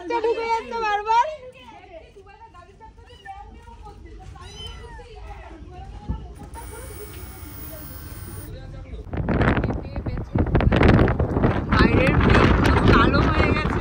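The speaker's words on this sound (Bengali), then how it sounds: "কি হাওয়া দিচ্ছে বাবা।" Strong seaside wind at a beach resort roars and buffets the microphone loudly through the second half, after calmer moments with a kitten meowing and people talking nearby.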